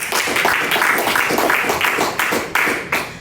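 Applause rises from a church congregation during a Spanish-language sermon, a dense steady patter of many hands clapping for a few seconds, close and fairly loud.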